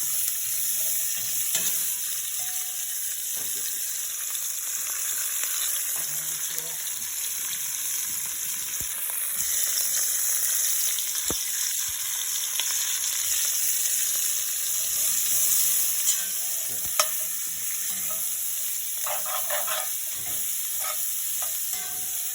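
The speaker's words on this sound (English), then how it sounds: "Just to kind of sweat it down, get a little color on those vegetables too." Vegetables and tomatoes, cut in large pieces for a chuck roast, sweat in a pot with a steady soft sizzle, occasional stirring scrapes and faint clinks, close and even throughout with no talking.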